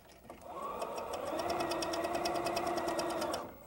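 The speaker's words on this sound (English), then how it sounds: "we will put right sides together and stitch them one inch from the edge." A sewing machine runs a straight stitch through two fabric pieces laid right sides together to form a bow, giving a steady, close, continuous whirring hum of rapid needle strokes that lasts about three seconds before stopping.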